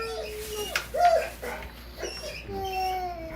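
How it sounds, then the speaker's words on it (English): A dog whimpers in a home kitchen with short, high, rising and falling whines in several bursts, fairly close, over light background noise. "Thomas, your dog needs your attention."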